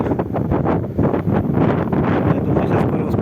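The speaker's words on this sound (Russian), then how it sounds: "Дубина такой, ветер вообще холодный." Strong cold wind blows over open water while out in a boat near an island around Yakutsk, roaring continuously into the microphone with gusty buffeting throughout.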